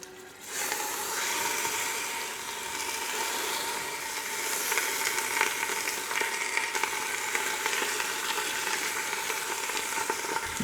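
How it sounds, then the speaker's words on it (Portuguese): Pieces of oxtail brown with olives in a hot pressure cooker pan, giving a continuous close sizzle and spatter. The frying starts suddenly at the outset and holds steady, with small crackles and stirring scrapes throughout. "vou dourando os pedaços aos pouquinhos"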